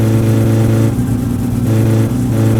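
A car engine in the driving game My Summer Car revs loud and steady at close range, with a brief dip in pitch midway before climbing again, and no voices.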